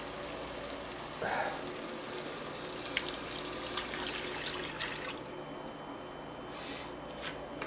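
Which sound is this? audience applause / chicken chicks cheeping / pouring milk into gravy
pouring milk into gravy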